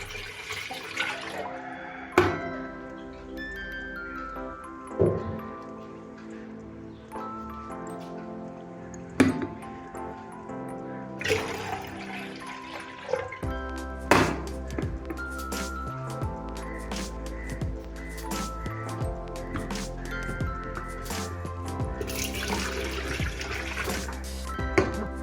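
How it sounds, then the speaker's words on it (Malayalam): Water poured from a 300 ml glass into two 1.5-litre electric kettles, a Butterfly and a Pigeon, giving several splashing pours and clinks of glass on metal, close and fairly loud, with no talk. "2 കെറ്റിലേക്കും 2 ഗ്ലാസ് വെള്ളം വീതം ഒഴിക്കാൻ പോവുകയാണ്."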